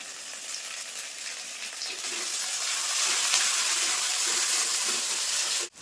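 Steady sizzling of cumin and dried red chilli paste frying in hot oil, growing a bit louder midway, with occasional stirring scrapes and no talking.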